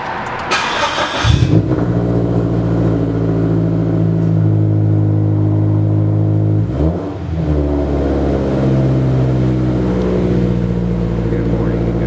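A car engine starting on a cold morning: a short cranking burst catches into a loud, steady idle that rises briefly in a rev partway through, then settles again.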